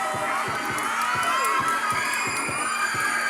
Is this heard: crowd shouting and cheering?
yes